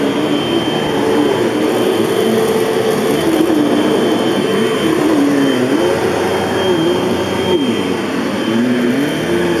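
A Hoover Elite Rewind bagless upright vacuum runs loud and close on carpet, a constant whining roar whose pitch wavers slightly as it is pushed back and forth.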